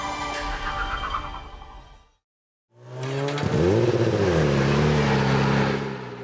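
A motorcycle engine revs hard, a loud buzzing roar that drops away into a short silence, then climbs again with rising and falling pitch sweeps as the throttle is worked up close.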